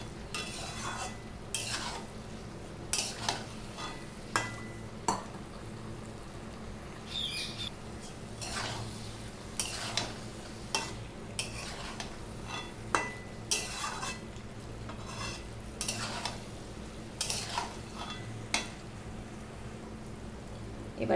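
Potatoes and green beans cooking down with spices in a pan, with a soft sizzle and repeated sharp scrapes of a spoon stirring against the pan, after a little hot water is added.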